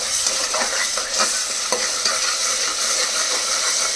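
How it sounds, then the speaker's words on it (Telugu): Ginger garlic paste fries in a hot pan, giving a dense, steady sizzle with soft stirring scrapes close up and no talk. "ఈ అల్లం వెల్లుల్లిపాయ పేస్ట్ కూడా పచ్చివాసన పోయే వరకు ఫ్రై చేసుకోవాలి."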